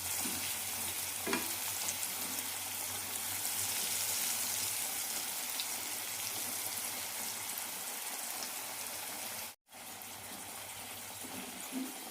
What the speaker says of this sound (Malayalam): രണ്ട് സൈഡും നന്നായി ക്രിസ്പി ആകുന്നവരെ വറുത്തെടുക്കാം